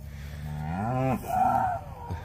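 Cattle in a corral lowing with one long, loud, close moo that slides upward in pitch, then a second shorter call, with no talk.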